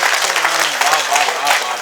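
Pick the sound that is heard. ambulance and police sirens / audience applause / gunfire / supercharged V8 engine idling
audience applause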